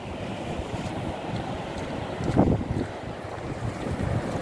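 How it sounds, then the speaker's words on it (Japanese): Akiu Great Waterfall roaring as a steady, broad wash of falling water, loud and continuous with a gusty swell in the middle, heard outdoors from a footpath near the falls. "滝が見える。"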